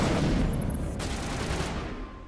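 Burst-fire assault rifle shots from the Mass Effect Legendary Edition video game, a dense rattle of gunfire that holds steady at moderate loudness for a little over two seconds before tailing off slightly.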